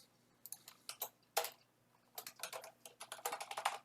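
Quick bursts of keystrokes on a computer keyboard as a password is typed, close and crisp, in irregular clusters with short pauses between them.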